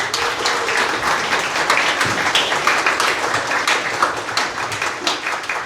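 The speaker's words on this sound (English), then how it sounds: "Give yourself a round of applause." Dense audience applause at a camp gathering, steady and loud throughout with many overlapping claps and no lulls.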